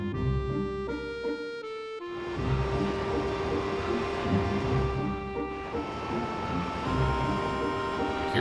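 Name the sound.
train passing in Final Fantasy VIII video game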